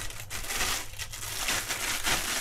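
Crinkling and rustling of a thin plastic kitchen glove being pulled onto a hand before mixing seasoning sauce for yukgaejang, a dense continuous crackle close to the mic with no talking.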